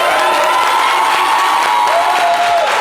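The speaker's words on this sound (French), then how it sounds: "Merci de l'applaudir, s'il vous plaît" A radio or studio audience greets a guest with continuous applause and cheering, loud and close, with a sustained tonal whine running through the crowd noise.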